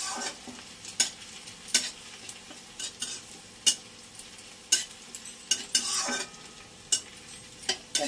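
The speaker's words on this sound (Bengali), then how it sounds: "এটাকে ভেজে নেব 2-3 মিনিট, এটাকে ভেজে নেব আমরা" Vegetables frying in a non-iron pan with a spoon stirring, soft steady sizzle under a series of sharp metallic scrapes and clinks at irregular intervals, no voices.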